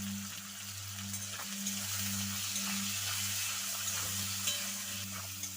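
Moringa drumsticks fry in hot oil with salt and turmeric, giving a steady, close sizzle with a faint low hum underneath. No voices are heard.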